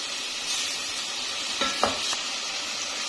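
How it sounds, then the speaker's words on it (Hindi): Spice paste frying in a pan for Lahori street-style chikar cholay gives a steady, fairly faint sizzle throughout, with a few brief stirring scrapes near the middle. "सारे पेस्ट को मैं अच्छे से फ्राई कर लूंगी"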